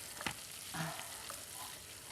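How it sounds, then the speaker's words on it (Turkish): A spoon stirs tomato paste sauce in a pot for green tomato bulgur pilaf, making a few soft scrapes and clinks over a faint low sizzle. "Tabii ben bunu karıştırıyorum."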